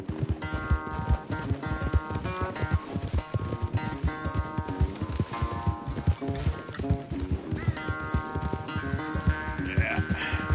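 Horses gallop hard in a race in Red Dead Redemption 2, with rapid rhythmic hoofbeats pounding continuously and close, mixed with game music and occasional tack and breath sounds.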